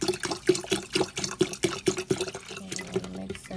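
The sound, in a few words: pouring water into a drink mixture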